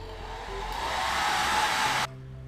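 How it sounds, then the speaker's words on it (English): A hair dryer blows steadily at close range while drying a handmade Witch King mask, its broad whooshing roar rising slightly before cutting off abruptly near the end, leaving a low motor hum. "I found a hair dryer."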